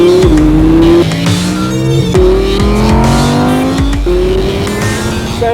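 A 2016 Audi R8 V10 Plus with its 5.2-litre V10 revs hard through repeated gear changes, loud and close, with pitch climbing and dropping several times and a touch of tire squeal.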